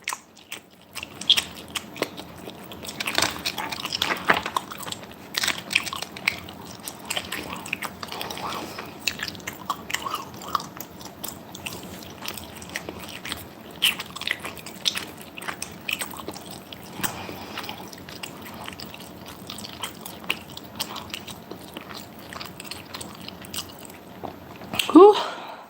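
Someone chewing crunchy Double Bubble bubblegum candy, giving repeated close crunches and moist bites at an uneven pace across the whole stretch, with a few breathy sounds between chews.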